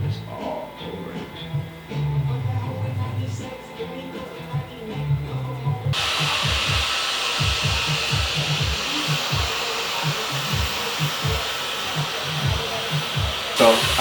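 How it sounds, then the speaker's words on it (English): A hair dryer fitted with a diffuser blows steadily on curly, wavy hair during a mod haircut, a continuous close whoosh that shifts to a brighter, louder roar partway through, with soft rhythmic thumps beneath. "I'll even grab a few pieces, twist it, and blow dry directly on it."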